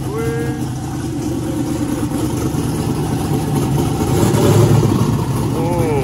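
A 2,000 horsepower twin turbo El Camino engine idles with a steady, loud, rumbling drone. A faint whine rises and falls over it, and the level swells slightly near the end.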